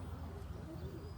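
California Spinner roller pigeon cooing, a single brief, soft, low coo heard close by with nothing else around it.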